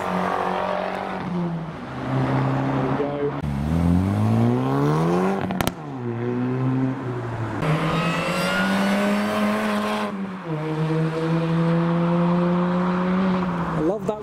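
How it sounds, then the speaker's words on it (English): A Mini Cooper S with red wing mirrors and gold wheels at a drive-through car show, its engine rising and falling through several revs with a steady, high supercharger whine layered over the engine note, close and loud. "Supercharger whine."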